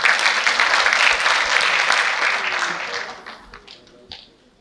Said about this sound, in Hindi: तालियां बजाइए पहले।